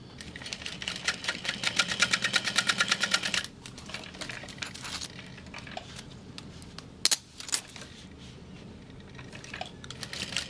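A sewing machine stitches a bag seam closed in a fast, steady mechanical rattle that runs for a few seconds, then stops, leaving quieter handling noises and a couple of sharp clicks.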